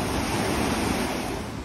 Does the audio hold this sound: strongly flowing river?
yes